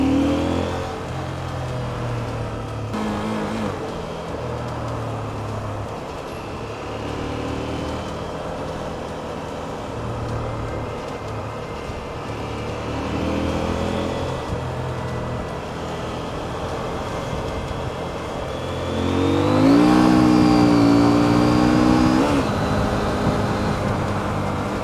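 A CFMoto IBEX 800 motorcycle engine hums steadily under way on the road, its pitch rising and falling with throttle changes, then swelling into a louder rev near the end, with wind rush throughout.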